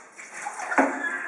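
Cold water poured into a container during a classroom ocean-current experiment, a brief splashing pour that swells to a sharper gush near the end, moderately close and with no talk.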